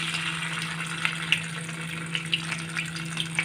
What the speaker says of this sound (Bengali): তারপরে আমি এখন আদা রসুন বাটা দিয়ে দিচ্ছি।